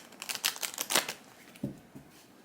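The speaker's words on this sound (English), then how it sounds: "I gotta shuffle the decks good" Quick rapid riffling of cards, a burst of dense crackly flutters followed by a couple of softer taps, close and fairly quiet.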